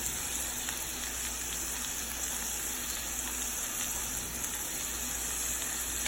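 Already cooked shrimp warm in a pan over medium-low heat, giving a steady, even sizzle with a constant hiss and no talking.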